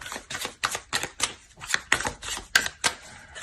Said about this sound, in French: On va rajouter des cartes.